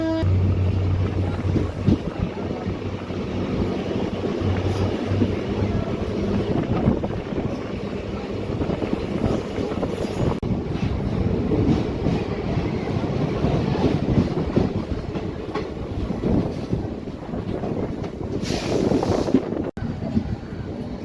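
Sangli DEMU Express train standing at Wadwal station, a steady broadband rumble of engine and platform noise running throughout with wind buffeting the microphone, a brief brighter hiss near the end.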